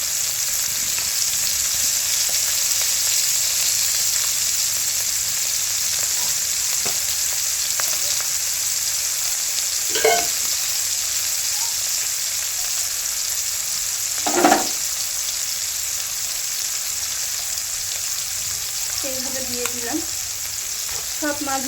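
Small fish frying in hot oil in a rustic village kitchen, with a steady loud sizzle throughout and a few scrapes and knocks as a wooden spatula stirs the pieces.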